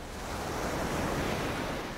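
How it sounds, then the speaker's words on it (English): Tidal bore waves rolling up the Qiantang River (Tiantang) near an ancient Zhejiang town, a steady broad roar of surging water with wind rushing over the microphone, continuous and loud without voices. "The tidal bore is truly a spectacular sight."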